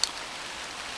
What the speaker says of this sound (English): It's seriously raining